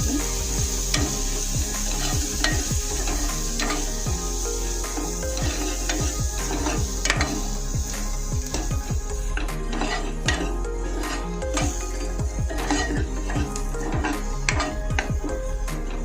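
A spoon scrapes and clanks against a pan while Malvani masala is stirred into vegetables, with repeated sharp metallic knocks in an uneven rhythm over a steady low sizzle.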